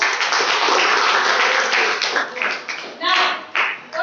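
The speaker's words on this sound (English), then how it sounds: "Clap for it." A classroom of students clapping together in a dense, steady burst that thins into scattered claps toward the end, fairly loud and close.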